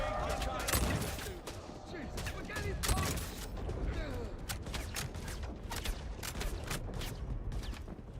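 Rapid sniper rifle shots crack out in a video game firefight, repeated sharp reports with quick follow-ups over steady background game noise, and a voice talks in places.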